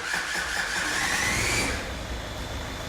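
A car starter cranking the engine on a weak, 58% charged battery, a continuous rough whirring drone with a rising squeal that drops off after about two seconds into a duller steady churn.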